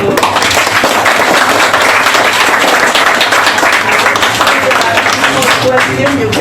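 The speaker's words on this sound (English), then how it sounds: "so a big applause to..." Audience applause after a lecture on pro-ISIS networks in Southeast Asia, a dense, sustained wash of many hands clapping at steady loudness throughout, with some crowd voices mixed in.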